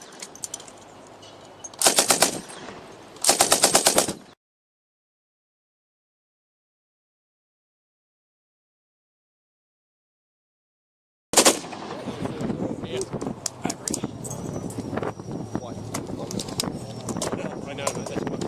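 An M60 machine gun is test fired at an outdoor event, loud bursts of automatic fire near the start, then after a long silence sustained rattling and activity with background noise and voices.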